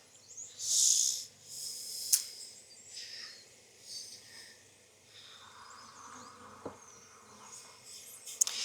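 Honey bees buzz around an open hive during a hive inspection: a steady, moderately faint insect drone with close passes as individual bees fly near, plus a few sharp clicks and handling knocks, no talk.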